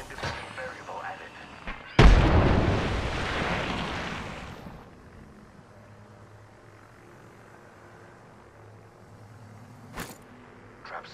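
A frag grenade explodes in the battle royale game Apex Legends, one loud sudden blast that rumbles and decays over a couple of seconds, followed by quieter game ambience and a faint later crack.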